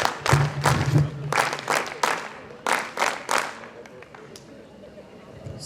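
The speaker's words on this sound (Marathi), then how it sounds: "सभागृहात उपस्थित सगळ्यांना जोरदार विनंती करतो, टाळ्या वाजवून यांचं सगळ्यांचं अभिनंदन करा" An audience in a hall at a Jain Social Group installation ceremony claps in several loud bursts, each swelling and breaking off, with the clapping thinning and fading toward the end.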